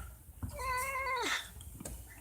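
A cat gives a single drawn-out meow that rises and then bends downward, close and clear over a quiet room, with soft thumps around it and no talking.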